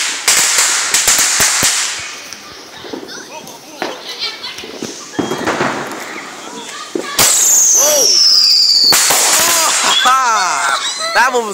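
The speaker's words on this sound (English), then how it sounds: "And yet there's still some fireworks." Sharp bangs of Fourth of July fireworks crack and pop at a distance in light drizzle, some with whistling streaks, while children's voices and chatter carry on around them outdoors.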